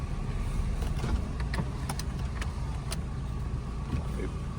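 Car driving along on a road test with a check engine light on, a steady low road and engine rumble throughout with faint rattles and clicks, moderately quiet and continuous.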